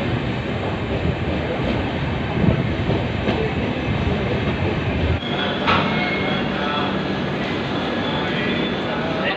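Sampark Kranti Express passenger train running, a steady loud rumble of wheels and carriage noise throughout, with brief clanks and a shift in tone midway, and faint voices in the background.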